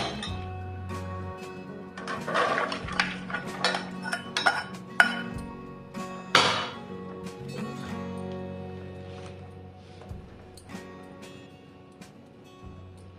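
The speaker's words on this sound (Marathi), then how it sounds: "मी इथे पसरट भांड्यावर चाळणी ठेवली आहे, त्यात आता आपण शिजवलेले शेंगदाणे ओतून घेऊ" Boiled peanuts are poured from a pot into a sieve resting over a wide vessel, giving close clattering, clinking bursts over a low steady hum, then tapering into quieter scattered taps.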